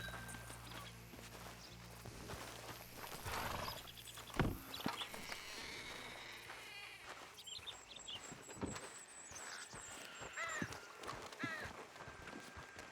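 Horse hooves clip-clopping and shifting as it is hitched at a post in the video game Red Dead Redemption 2, with a neigh and scattered outdoor ambience and birds, steady and mid-distance throughout.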